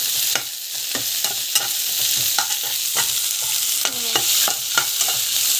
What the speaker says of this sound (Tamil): பூண்டு ஆட் பண்ணிக்கலாம். தேங்காய் ஆட் பண்ணிக்கலாம். காஞ்ச மிளகா நல்லா வந்து வதக்கிக்கலாம்.